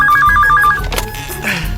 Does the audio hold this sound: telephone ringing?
yes